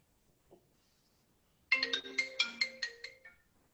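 Telephone ringtone from an incoming call on a phone set to speaker during a public meeting, a melodic electronic ring repeating in a steady pulse of about eight tones, loud and close after near silence.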